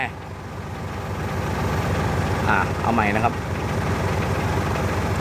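A Hino K13-C truck engine fitted with a 6UZ control box idles with a steady low rumble during an injector cut-off cylinder test, while someone talks over it and electronic beeps sound briefly.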